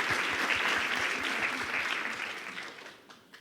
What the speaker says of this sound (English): So even though he's not here, we should give him an applaud.